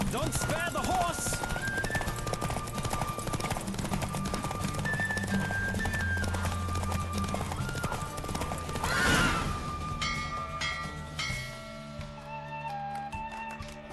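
During a race in the video game The Witcher 3: Wild Hunt, a horse's galloping hooves pound steadily under game music and effects, a loud neigh rings out near the end as the gallop slows, with some talking.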